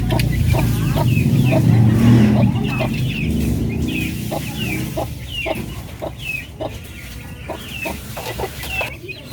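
Native chickens and their chicks cluck and peep in a backyard pen, a steady stream of close chirps and clucks over a low rumble throughout.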